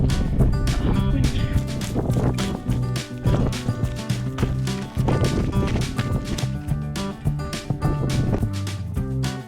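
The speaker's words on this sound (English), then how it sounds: "Oh, wind." Wind buffets the microphone aboard a cruising sailboat heading upriver, loud irregular gusts and rumbling pressure bursts running continuously through the whole stretch.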